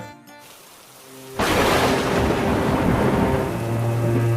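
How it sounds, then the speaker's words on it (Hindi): Heavy rain bursts in after a brief quieter opening, pouring steadily and close with the deep roll of thunder beneath it, a dense continuous wash with no voices. "बारिश भी हो रही थी।"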